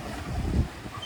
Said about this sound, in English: Kind of noisy, you can hear all the wind.